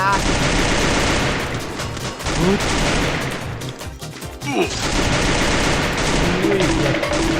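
Dense, rapid automatic gunfire bursts from the Free Fire battle royale game, loud and nearly continuous, with a brief lull midway before the shooting resumes.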